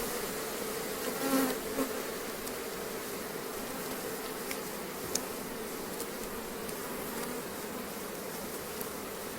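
Honey bees buzz thickly inside an opened hive's brood area, a continuous close drone with individual bees zipping near, steady and loud without talk.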